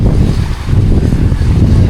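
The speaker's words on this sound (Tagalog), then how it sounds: "Ay, naku hangin." Strong wind buffets the microphone in a steady, loud low rumble, gusting and roaring continuously outdoors near a garden where parsley is growing.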